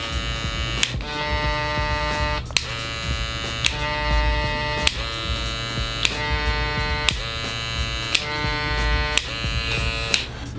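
A StyleCraft Apex cordless hair clipper runs nearby with a loud, steady electric buzz and hum, broken by faint regular clicks about once a second.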